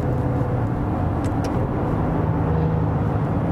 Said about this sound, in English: So there's an AMG GT coming now.